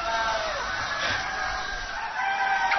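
A hen on a poultry farm clucks and calls steadily throughout, close and fairly loud against a background of other birds.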